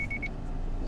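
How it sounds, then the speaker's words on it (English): A 2019 Subaru Forester's EyeSight pre-collision throttle management gives four short, evenly spaced high warning beeps in a parking lot, then stops, leaving a low car hum. "That beep warns you that there is something in front to step on the brakes"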